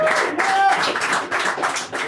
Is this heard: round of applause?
yes